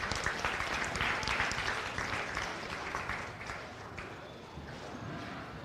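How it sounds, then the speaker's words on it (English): Crowd applause for youth exhibitors at a county fair goat show, a steady dense clapping that fills the whole stretch and eases slightly toward the end, with some background noise mixed in. "Let's give both of those kids a big round of applause."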